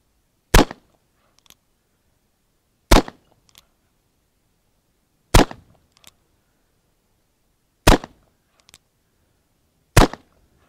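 Five loud, sharp gunshots from a Cimarron Model P revolver chambered in .45 Long Colt, spaced a couple of seconds apart at an outdoor range, each a crisp crack with a brief echo and quiet gaps between shots.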